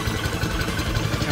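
Small engine on a gold prospecting dredge idling while it warms up, a steady low throbbing rumble that runs close and even throughout with a light mechanical hiss above it.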